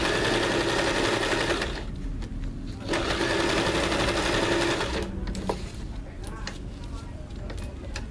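A Janome CT2480LX sewing machine stitches with a roller foot, its loud, close, steady whirring running almost continuously with brief slowdowns, while someone talks over it.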